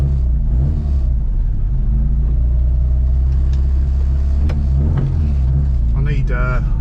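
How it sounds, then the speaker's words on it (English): A classic Mini in racing green with a John Cooper conversion and twin SU carburettors idles high with a steady, loud, close engine drone and slight fluctuations, with a brief higher whine near the end. "Right, we're up and running again, albeit slightly high idle now."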